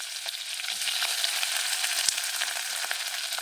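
Onion pieces frying in hot oil with cloves, cumin and mustard seeds, a steady close sizzle with faint crackles and pops throughout.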